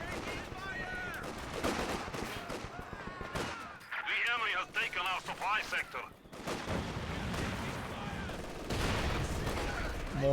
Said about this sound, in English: Mortars peppering.